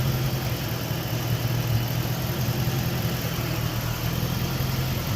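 A car engine idles steadily after a cold start on a winter morning, warming up with a continuous low rumble and hum, close and even, with no talk over it.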